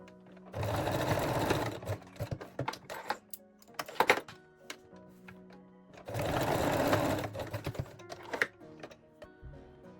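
A sewing machine locks a seam on a bikini top in two short bursts of rapid whirring stitches, each followed by scattered clicks and taps of handling the machine and fabric.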